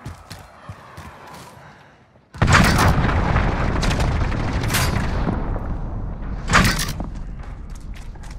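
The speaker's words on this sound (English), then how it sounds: "Allied cruise missile launched." A cruise missile strike in Call of Duty: Modern Warfare lands after a quiet stretch, as a sudden loud boom swells into a sustained roaring rumble, with a second sharp blast near the end.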